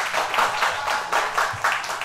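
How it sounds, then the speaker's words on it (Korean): Applause from an audience at a panel talk with local shop owners, held at a burger restaurant: dense, even clapping from many hands, close and steady for a couple of seconds with no voices. "박수 부탁드리겠습니다."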